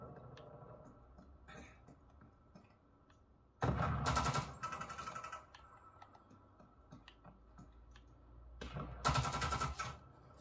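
Bursts of video game gunfire in two loud volleys, each about a second long, with quieter clicking and ticking between them, played on a Sony OLED A90K setup.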